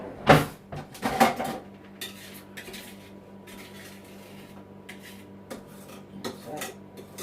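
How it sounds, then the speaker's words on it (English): A knife scraping Victoria sandwich cake batter off the sides of a mixing bowl, with a few short scraping and clinking strokes, two louder ones early, then quieter intermittent scrapes; no talking. "What we need now is a knife just to scrape it off the sides."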